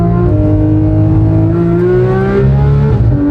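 A Porsche GT3 engine revving up close with a fault, loud and steady with rising tones and a brief uneven stumble near the end.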